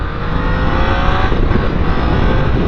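A Triumph Tiger 800 XRX low ride height motorcycle accelerating, its engine a loud, steady close-up roar with a rising, rough mechanical drone throughout.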